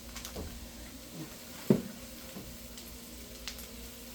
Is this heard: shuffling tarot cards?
no